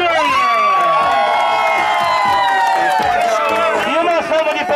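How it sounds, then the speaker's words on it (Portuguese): A crowd at a birthday celebration for Ronaldo cheers and shouts loudly, a dense close burst of voices and whoops with some clapping mixed in, carrying a sustained tone for a few seconds. "4, 3, 2, 1! Uma salva de palmas mais que especial pro Ronaldo!"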